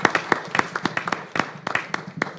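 Applause at a school district board meeting, honouring students: a small group claps in a brisk, uneven patter that carries on steadily, fairly close, with no voices over it.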